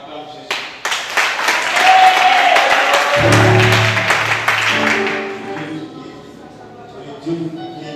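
A church congregation at a 2013 convention bursts into loud, sustained applause and cheering to acclaim Jesus, with a voice and singing-like tones rising over the clapping before it thins out.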